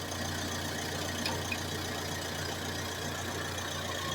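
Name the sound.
car engine idling, exhaust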